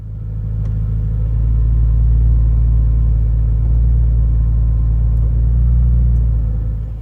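Steady low engine and road rumble from a Porsche Cayman S driving down the road, heard from inside the cabin as a continuous, even drone with no voices.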